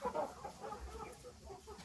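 Hens clucking softly inside a backyard coop with nesting boxes, a faint murmur of scattered low clucks with no talking.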